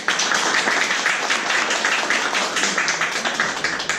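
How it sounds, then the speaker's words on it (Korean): Steady applause fills the room at a whisky tasting event, dense overlapping claps from a crowd of bar guests holding an even level throughout with no voices standing out. "박수 한번 해주겠습니다"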